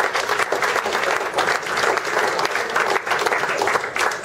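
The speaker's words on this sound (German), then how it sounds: "Du darfst trotzdem klatschen" An audience at a motorsport club's year-end party applauds, steady close clapping from a crowd that carries on without a break.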